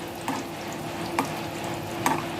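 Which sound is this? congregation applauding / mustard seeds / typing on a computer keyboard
mustard seeds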